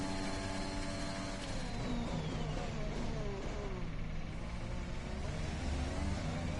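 Engine note of an F1 car in the F1 2021 video game at the Austrian GP, a dense continuous whine that climbs and shifts in pitch as the revs rise, steady and loud throughout with no talk.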